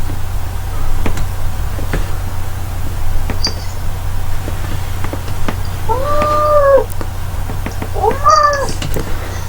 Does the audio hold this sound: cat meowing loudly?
yes